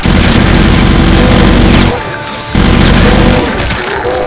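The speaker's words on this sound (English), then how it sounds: "So right now we have a minigun, which is what was dropped from the chain gun guys." A minigun in Brutal Doom roars in a loud, continuous stream of rapid fire, breaking off briefly before resuming at full intensity with some crashing impacts mixed in.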